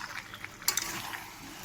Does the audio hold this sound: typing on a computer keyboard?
no